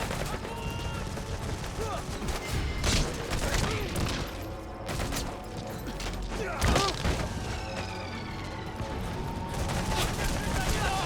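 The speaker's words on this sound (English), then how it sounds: "Are they all still shooting at me?" Sustained gunfire in the video game Metal Gear Solid V: The Phantom Pain, with dense overlapping shots, mechanical clatter and creaks filling the whole stretch, loud and continuous under occasional talk.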